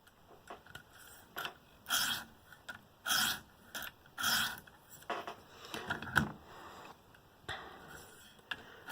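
Knife deburring strokes on a KME sharpening stone: short, crisp scraping swipes in an irregular rhythm, close and fairly quiet, with brief pauses between strokes.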